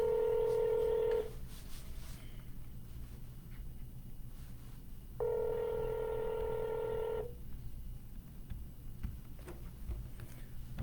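Telephone keypad dialing tones, a steady DTMF-style tone burst at the start and another about two seconds long midway, with quiet room background between, while a real estate cold caller places a call.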